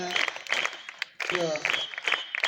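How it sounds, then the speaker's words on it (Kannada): A school audience claps loudly at a Netaji Subhas Chandra Bose birth anniversary event, in two bursts of scattered clapping separated by a short break, with some voices mixed in. "ಜೋರಾಗಿ ಚಪ್ಪಾಳೆಯನ್ನ ಕಟ್ಟುವುದರ ಮೂಲಕ"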